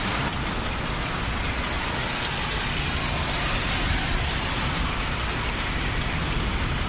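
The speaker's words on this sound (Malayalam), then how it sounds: "ആലിപ്പഴം." Dense, loud, continuous pattering of hail drumming on a tarpaulin in Saudi Arabia holds steady without pause and with no voices.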